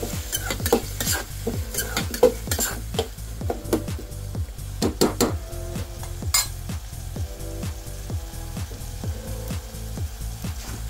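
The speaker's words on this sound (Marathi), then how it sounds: "तर हे मिश्रण छानपैकी परतून घ्यायचं" Egg bhurji curry mixture with tomatoes being stir-fried in a pan, a rhythmic run of spatula scrapes and taps against the pan over continuous sizzling, close and steady for about eleven seconds.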